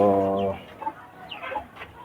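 A hen gives a short, nasal cluck up close, followed by softer scattered clucks and rustling.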